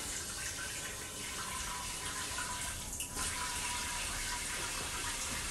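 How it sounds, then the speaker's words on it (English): Water pours steadily from a kitchen tap into a cooking pot, a continuous rushing hiss held at an even level throughout, close by and with no voices. "Let's go ahead and put water in that pot."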